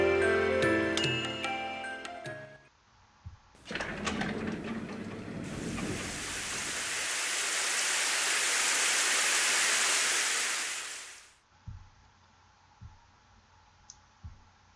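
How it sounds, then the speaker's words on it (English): Rain in the video game Ame no Marginal: a steady hiss of falling rain swells in, holds for several seconds and fades out, framed by soft clicks, chimes and a few faint knocks. "The first thing I could hear was the sound of rain."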